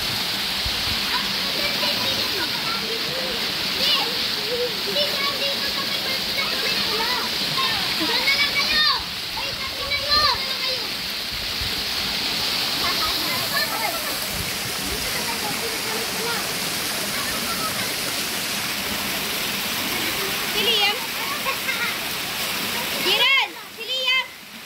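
Kawa Kawa Falls, in Barangay Rizal, pours in a steady close roar of splashing water while children play and adults talk and call out over the rush.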